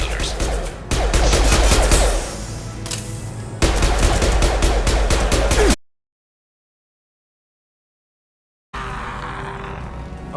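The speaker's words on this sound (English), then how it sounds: "Firing! Concussive shot!" Concussive shots fire in a video game as dense, loud bursts of rapid gunfire in two long volleys, then full silence for a few seconds before another burst resumes.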